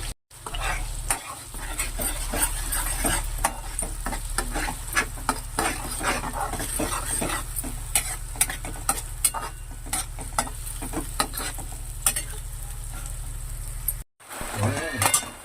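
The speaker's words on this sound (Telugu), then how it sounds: "పచ్చిమిరపకాయలు వేసుకోవాలండి వేసుకొని ఒకసారి కలుపుకోవాలి బాగా" Green chillies stirred into a fish curry frying in a pan give a steady sizzle with repeated scraping strokes throughout, loud and close, with a brief break near the end.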